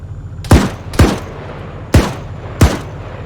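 Four loud, sharp gunshots sound at irregular spacing during a video game squad drill in which one team gives supporting fire, each crack close and decaying quickly over low background rumble.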